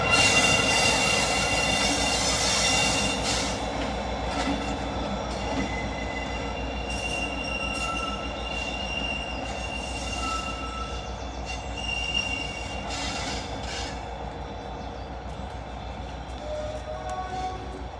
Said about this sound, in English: my next train was already pulling in